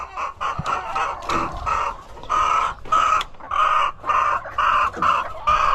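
Laying hens in a coop cluck and squawk close by in short, repeated bursts, several birds overlapping with a few louder cackles.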